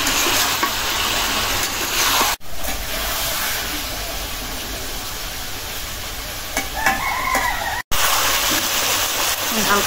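Tengra fish sizzle steadily in a pan with cooked-down tomato and are stirred gently. The frying hiss is loud, close and continuous, with soft scraping from the stirring and a couple of brief breaks.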